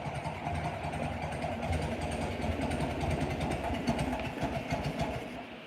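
The engine of a 1967 Volkswagen Beetle idles with a steady, rough, rumbling chug, continuous and fairly close throughout.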